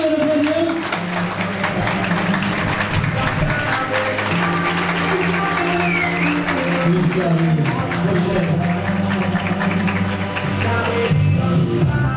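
At an award ceremony and gala dinner, a large audience claps steadily and loudly to welcome company chairman Özgür Akın to the stage, the sustained applause blending with background music throughout.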